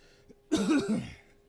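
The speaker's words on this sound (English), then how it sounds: "Sorry about the coughing." A single person coughs and clears their throat in a short, close burst that lasts about half a second after a brief quiet lead-in, then fades out.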